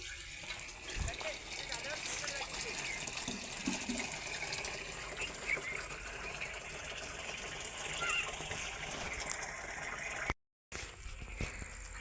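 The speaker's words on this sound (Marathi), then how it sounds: "संध्याकाळच्या वेळी मोटर चालू केली की मस्त सगळ्या झाडांना पाणी जातं" A water pump motor running in the evening sends water out to garden plants, giving a steady, moderate rush and splash of flowing water that continues throughout, with faint birdsong and a brief dropout near the end.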